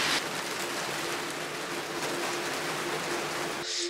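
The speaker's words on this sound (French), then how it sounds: "là, il pleut vraiment et apparemment, ça va pas s'arrêter jusqu'à demain" Heavy, steady rain pours down continuously in a close, dense hiss with no pauses, a persistent downpour recorded outdoors in the countryside.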